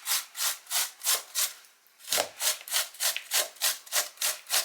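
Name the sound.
grating ginger on a grater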